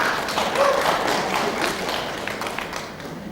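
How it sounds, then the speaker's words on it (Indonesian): An audience applauds the patent examiners at a 2023 patent directorate work meeting: a steady, dense wash of clapping from a sizeable group that holds for about three seconds and thins slightly toward the end. "Tepuk tangan buat pemeriksa."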